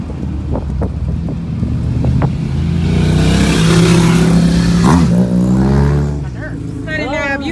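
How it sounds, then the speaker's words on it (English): Motorcycles pass along a winding cliffside road in Los Angeles, heard from inside a car as a steady engine rumble with wind noise, swelling in the middle and easing off toward the end. "These motorcycles are making me super nervous."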